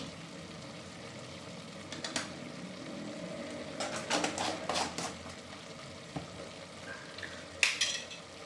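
Chicken with ginger-garlic paste sizzles steadily in a pan, with occasional sharp scrapes and clinks of a spoon stirring; no talking.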